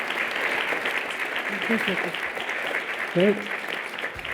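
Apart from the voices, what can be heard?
audience applause for panelists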